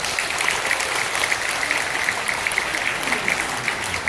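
An audience claps steadily for a newly introduced song, a dense wash of many hands applauding at an even level from start to finish.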